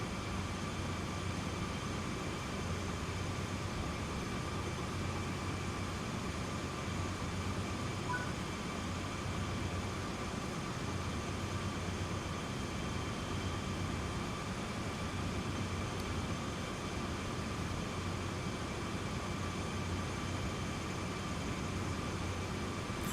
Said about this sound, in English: Getting back into the high-speed freight running now, 40 miles an hour